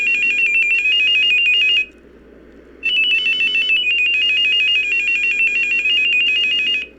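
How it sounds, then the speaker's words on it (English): A shrill, low-quality electronic ringtone version of the Silent Hill theme from Silent Hill: Shattered Memories plays as a piercing, buzzy beeping melody that breaks off for about a second and then resumes, loud and alone. "it's trying to be a very low-quality phone ringing version of the original Silent Hill theme"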